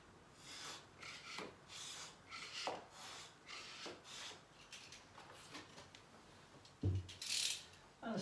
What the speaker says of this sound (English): Just get the straight edge and trim it the bottom here.